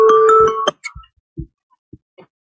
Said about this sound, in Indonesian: Ada telepon, lebih baik angkat telepon dulu biar tidak terganggu.